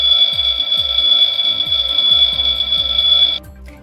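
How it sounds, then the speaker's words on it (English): Fire station master alarm in the Fireman Sam cartoon, a loud, steady high electronic ringing tone with a repeating low pulsing beat underneath, cutting off abruptly near the end. "They check out the master alarm."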